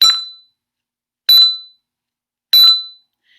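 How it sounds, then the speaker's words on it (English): A handbell played with the ring touch, struck and damped almost at once: three short bright rings spaced evenly about a second apart, each cut off quickly with no sustain, heard alone. "the ring touch is ring the bell and damp it as quickly as"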